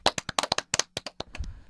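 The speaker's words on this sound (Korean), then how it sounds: "박수." A small group claps briefly on a movie-chat talk show, about a dozen quick, close hand claps in an uneven burst that fades out after under two seconds.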